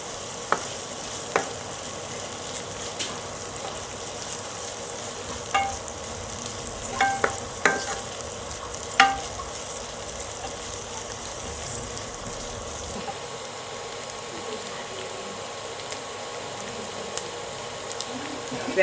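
Onions for a prawn gravy are stirred and sautéed in a pan, a steady low sizzle with scattered scraping clicks and taps of the spoon against the pan throughout.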